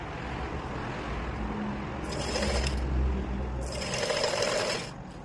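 A domestic sewing machine runs in two steady bursts while stitching a lehenga skirt late at night, a fast mechanical whir that starts, stops briefly, then resumes in a quiet room.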